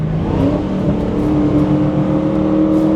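A 2016 Dodge Challenger Hellcat with an 800+ horsepower stroker engine revs and accelerates, giving a loud, steady engine roar with a rising whine heard from inside the car.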